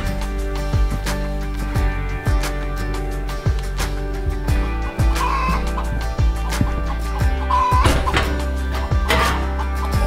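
A backyard chicken flock clucks steadily over a dense, constant background hum, with scattered sharp clicks and brief calls overlapping throughout.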